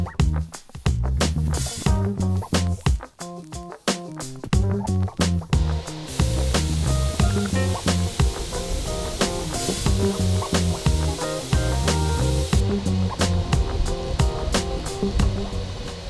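A close, loud HVLP spray gun lays down a water-based wood finish, hissing steadily in long passes. Sharp clicks and taps punctuate the spray throughout.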